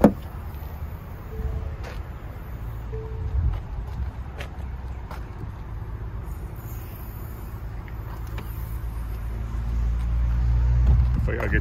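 Heard from inside, a 2022 two-door Ford Bronco Wildtrak 4WD Sasquatch hardtop with a 2.7L EcoBoost cruises on the highway with everything open. Low wind and road rumble rise and fall with faint knocks, while someone talks now and then.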